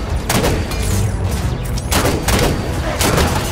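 Rapid bursts of gunfire from the Xbox One shooter Halo 5: Guardians, loud and continuous with several sharp volleys over a dense battle din, without speech.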